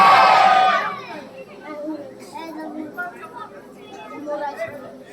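Crowd chatter from a large audience at a Bhagwat Katha gathering in Dumra, Jharkhand, a murmur of many overlapping voices following a brief loud burst.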